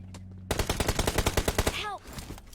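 Rapid bursts of automatic gunfire in PUBG Mobile, a dozen sharp evenly spaced shots over about a second and a half, then a brief rising whistle-like effect as the firing stops.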